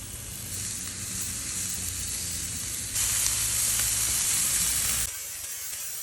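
Sausage frying on a griddle gives a steady, loud sizzle that swells louder midway and then drops slightly near the end, with no talk.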